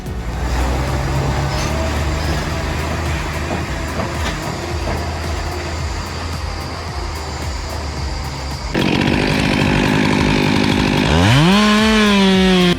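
A chainsaw roars steadily and loudly while bore cutting into a 30-inch pine, the engine pitch holding through the cut before shifting higher and then climbing sharply as it revs near the end.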